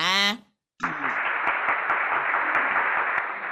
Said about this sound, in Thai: ปรบมือให้กับมินนี่เลยนะคะ